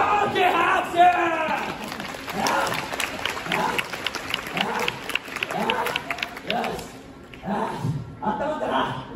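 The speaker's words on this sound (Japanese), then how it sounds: "オーケー、拍手。" Audience at the Universal Monster Live Rock and Roll Show at Universal Studios Japan clapping and cheering, with rhythmic shouted crowd cries and a performer's voice mixed in over the applause.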